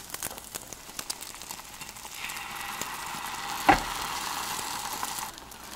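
A thin layer of beaten egg is poured into the empty side of a pan on medium heat for a rolled omelette. A quiet background sizzle turns into a fuller, louder hiss partway through, with a brief knock and no voices.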